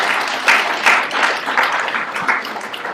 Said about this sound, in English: Yay. Big round of applause.